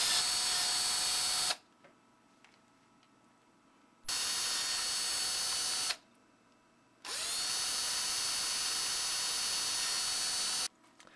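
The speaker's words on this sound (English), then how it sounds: "take a 3/32 drill bit, carefully drill the holes" Small power drill with a 3/32 bit bores holes in a board for a 1/10 scale RC emergency light bar, giving three steady high-pitched whining bursts of a few seconds each, separated by short silent pauses.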